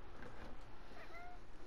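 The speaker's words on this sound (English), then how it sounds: "Cat." A cat gives a single short, faint meow in a quiet room, heard alone against a low background hiss.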